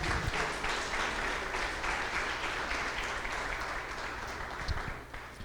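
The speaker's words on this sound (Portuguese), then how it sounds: "dê um aplauso ao Senhor mais uma vez" A church congregation claps as applause to the Lord, a dense, even roar of many hands close and sustained, easing slightly toward the end.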